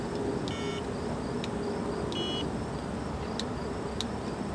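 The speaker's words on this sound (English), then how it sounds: "I'm just going to dial by sending the flipper DTMF codes into the mouthpiece" Faint, brief DTMF tone bursts from a Flipper device played into a phone mouthpiece, spaced irregularly over a steady background hiss.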